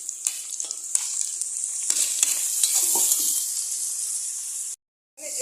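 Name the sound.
ridge gourd frying and being stirred in a pan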